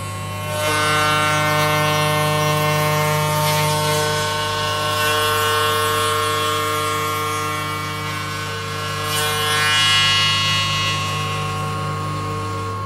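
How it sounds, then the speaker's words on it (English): A radius cutter machines the bearing edge of a drum shell with a loud, steady tonal whine and hum, holding constant with slight swells in cutting noise. "now this is the second cut, and we're taking it the depth right to the point whereby the edge of the radius cutter is just kissing the top of the shell"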